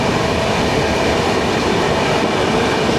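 A train pulls into Paravur station in Kerala on the Shoranur to Thiruvananthapuram line, its loud, close, continuous rumble of wheels and carriages running steadily throughout with no voices.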